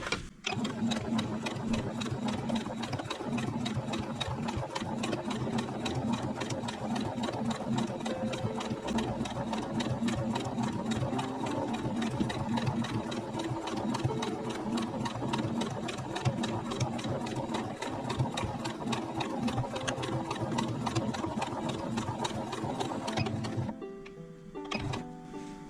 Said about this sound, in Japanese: ここ縫います。